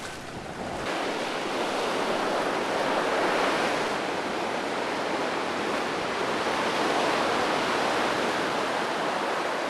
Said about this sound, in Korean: 심해를 흐르던 바닷물은 거대한 산이나 다름없는 섬을 만나 수면 위로 솟구쳐 오른다.